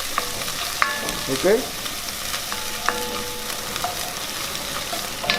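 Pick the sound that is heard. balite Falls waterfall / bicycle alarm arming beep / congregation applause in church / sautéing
sautéing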